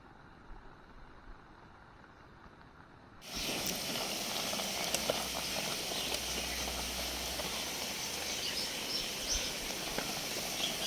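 Rice boils in a pot on a camp stove at a tent campsite on the way to Usuldungri in Ajodhya Pahar, Purulia. After a quiet opening, a loud, steady hissing bubble starts suddenly and continues close and unbroken.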